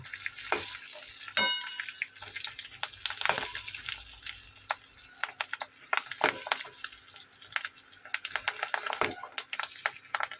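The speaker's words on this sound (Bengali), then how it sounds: "আর একটু ভাজা হোক।" An egg omelette, cut into pieces with a spatula, fries in a pan with a steady close sizzle, broken by sharp crackles and a few louder scraping clicks of the spatula.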